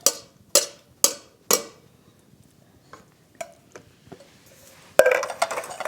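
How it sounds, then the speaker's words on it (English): Canned black beans tipped from cans into a cooking pot: four sharp, evenly spaced metallic clinks, some fainter taps, then a dense wet slide and plop as the beans drop in. "In go the black beans."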